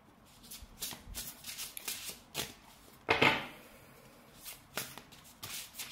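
A new deck of oracle cards is shuffled by hand in a quiet room, a series of soft riffling and slapping bursts, one louder flurry midway, close and fairly faint with no talking.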